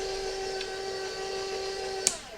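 Electric stand mixer running steadily while beating vegan devil's food cake batter with cocoa, a constant motor whine with a brief sharp clack near the end.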